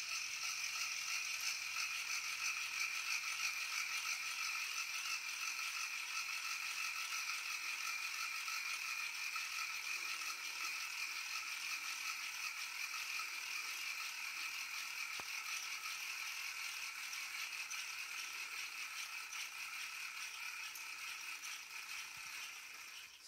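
Rubber motor for a Science Olympiad model helicopter wound with a hand winder: a steady, fast ratcheting whir with bright mechanical clicking that runs unbroken and close for the whole stretch, slowly fading slightly toward the end, with no talk.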